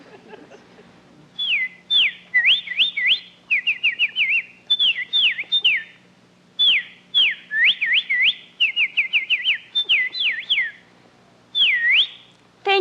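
A person whistles an imitation of a plain titmouse call at a bird-calling contest, repeating clear, high, rising and falling phrases in quick bursts with short pauses over a faint low hum.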